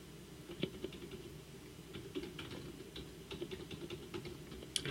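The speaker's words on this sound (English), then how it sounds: "can't type today," A computer keyboard is typed on in quick, irregular bursts of light clicks, close and fairly quiet over a soft background hum, with no talking.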